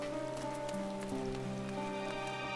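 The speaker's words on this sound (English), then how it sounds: "Well, it says it's raining." Rain falling in Final Fantasy XIV Endwalker, a steady soft patter layered over sustained tonal game music, fairly quiet and unbroken, with no one talking.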